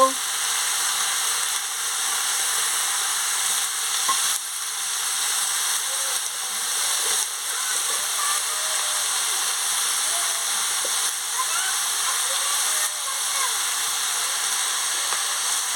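Cabbage with turmeric, chili powder and salt sizzles steadily in a pan while being stirred, a continuous even frying hiss with faint scraping throughout.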